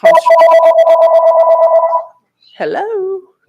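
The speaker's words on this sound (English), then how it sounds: "Answer the phone." A telephone rings loudly and steadily for about two seconds with a rapid bell-like trill, then stops; after a short pause a single voice speaks briefly.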